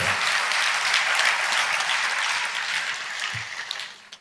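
A church congregation claps together during a sermon, a dense, loud round of applause that holds steady, then fades out toward the end.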